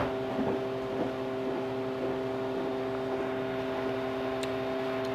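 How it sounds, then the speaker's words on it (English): A hand dryer runs in a nearby bathroom behind a thin door, a steady muffled whir with a constant hum, faint and unbroken throughout. "What you hear is a hand dryer in a bathroom."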